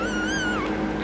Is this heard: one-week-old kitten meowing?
yes